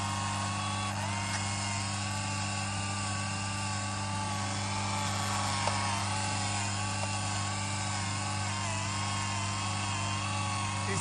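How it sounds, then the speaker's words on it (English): A motorised PTO winch works on a 1983 Matsushiro and Bandai 1/14 scale radio-controlled Land Cruiser 40 climbing a deep slope, giving a steady, close, high electric whine with a constant hum underneath and no talking. "Here you can see how the winch working"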